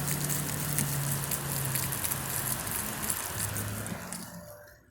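Steady rain patters across a surface in a dense, continuous hiss, with a low hum underneath, fading away toward the end.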